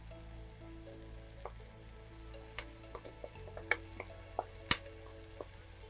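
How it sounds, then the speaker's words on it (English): Blended pepper, onions and garlic frying in a pan give a faint, steady sizzle, broken by scattered soft pops and clicks that grow slightly louder toward the end. "the blended pepper, onions, garlic, and allow it to fry for some time"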